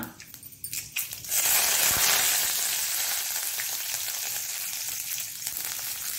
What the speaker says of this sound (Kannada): ಜೀರದೊಟ್ಟಿಗೆ ಸ್ವಲ್ಪ ಹಿಂಗಿನೊಟ್ಟಿಗೆ ನಾವು ಈಗ ಸ್ವಲ್ಪ ಕರಿಬೇವನ್ನು ಸಹ ಹಾಕೊಳ್ಳೋಣ.